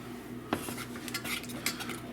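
Faint metal clinks and taps of a whisk working flour into a cheese dip base in a pot, a few sharp scrapes and knocks scattered over a low steady hum.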